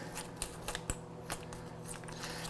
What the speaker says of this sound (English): let's get the scissors out. Get this fish ready.